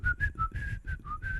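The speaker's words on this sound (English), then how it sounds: "you hear the whistling of the Grieg tune in the Hall of the Mountain King" Someone whistles a short tune up close, Grieg's In the Hall of the Mountain King, a quick run of clear, separate notes in a lively rhythm.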